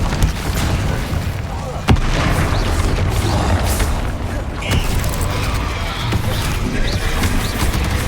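A fire spell cast in a Hogwarts Legacy battle: booming impacts and crackling blasts over steady game noise, with one sharp hit near the start and scattered bursts after it, while a voice speaks now and then.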